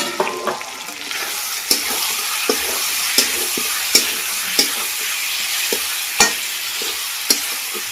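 Dried red chili hitting hot oil for a chicken curry, a steady close sizzle broken by sharp stirring clicks and scrapes at irregular intervals, with no talking.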